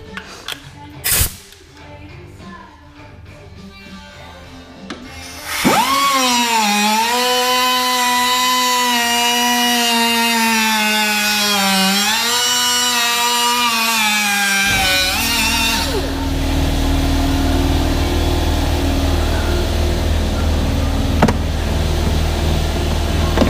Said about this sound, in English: All right, time to cut some plastic.